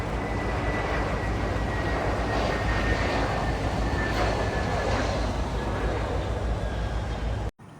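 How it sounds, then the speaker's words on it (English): JetBlue Airbus A321 airliner on final approach to runway 10 at San Juan, heard as a steady, loud, broad engine roar with a faint high whine, continuous throughout before cutting off abruptly at the end. "This is JetBlue Flight 1347 coming in from DCA, Washington Reagan National on an A321."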